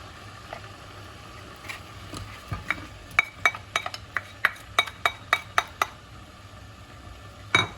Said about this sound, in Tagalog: Tapos, ilagay na ang pinritong meat.